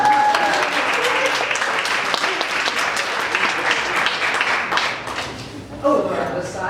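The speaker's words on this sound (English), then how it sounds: "Let's give Beatrice a nice round of applause." A lecture-hall audience at a mathematics and mental-calculation show gives a volunteer a lively round of applause, dense many-handed clapping that stays steady throughout, with a brief voice rising near the end.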